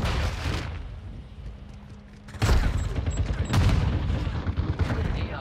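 Video game gunfire from the Battle Buddy War Computer Pack rattles in loud bursts, a dense volley at the start, a short lull, then a booming resumption of rapid shots and explosions.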